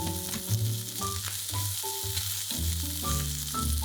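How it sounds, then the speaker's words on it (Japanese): Potato pieces stir-fry in a pan over medium heat, giving a continuous close sizzle with light stirring scrapes throughout and no talking. "じゃがいもを中火で炒める。"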